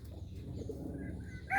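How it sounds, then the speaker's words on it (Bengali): Bombay and Bangla pigeons kept in a loft give soft, low, throaty cooing, close by and brief. "এখন কীভাবে ডাকাডাকি করতেছে।"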